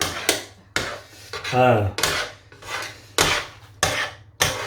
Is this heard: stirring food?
yes